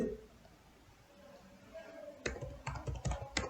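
Typing code on a computer keyboard, a faint hum at first, then a quick run of close keystroke clicks in the second half, with some soft talk in the background.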